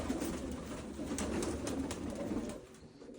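Soft, low pigeon cooing rolls on continuously, fairly close, with faint rustling and no voices.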